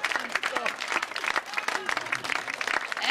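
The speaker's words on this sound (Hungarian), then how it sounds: "Tapsoljuk meg őt!" A live audience applauds a senior women's dance group, the Roki Nagyik, after their award-winning performance: dense, lively clapping from a crowd, with a voice talking over it.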